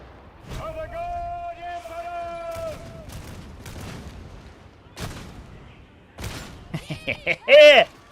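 A bolt gun in a Warhammer 40k video game fires in a quick run of sharp, loud bursts near the end, after a stretch of voices talking and calling out.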